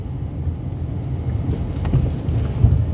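A Ford Maverick pickup engine drones steadily at high RPM in low gear, a deep, rumbling roar heard from inside the cab, holding at a constant strained pitch.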